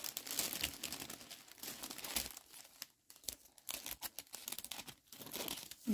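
Scissors cutting through crinkly gift basket wrapping, close-up crackling and rustling with short snips and brief pauses, fairly quiet with no voices.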